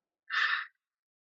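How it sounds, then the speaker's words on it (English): A single loud, throaty exhale follows a deep breath during a yoga breathing exercise. It is one breathy rush lasting about half a second, heard alone against silence. "do that loud exhale where you from the throat. Deep breath in. Loud exhale."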